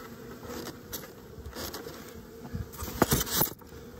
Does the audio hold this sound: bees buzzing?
yes